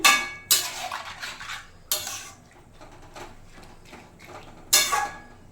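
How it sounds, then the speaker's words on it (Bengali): A spoon clanks and scrapes against a pot as shrimp and cucumber curry is stirred, with a few sharp metallic bursts separated by quieter shuffling, close and without talk. "সামান্য পরিমাণে একটু লবণ দেবো, দেখি ভালো করে নেড়ে চেড়ে নিয়ে"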